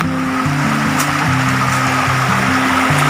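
Steady, broadband rush of a river flowing past as someone walks along its bank, continuous and fairly loud with no pauses, while a low harmonic hum runs beneath the water.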